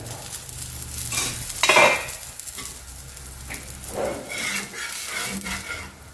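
Ragi, chickpea and green gram dosa sizzling on a hot pan just after being flipped, a close, continuous crackle with a couple of scraping utensil touches and no speech.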